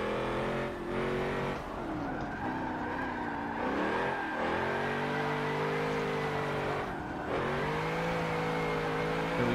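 A V8-swapped FC car drifting on a track in the rain in a racing video game, engine revving loud and high with rising and falling pitch, shifting gears, tires squealing now and then.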